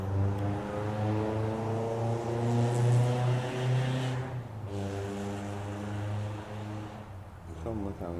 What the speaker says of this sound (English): I hope that's at least a nice small sports car, not just a car with like a loud muffler.